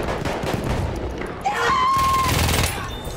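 Video-game gunfire from a fort aimed at the player: a dense, loud volley of rapid shots with a brief whistling tone partway through, and no talk over it.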